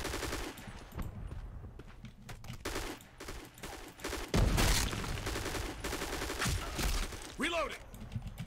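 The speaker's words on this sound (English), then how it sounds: "Gun sounds amazing." Rapid gunfire from the online shooter Black Squad crackles in repeated bursts and single shots, loud and close, over continuous game background sound.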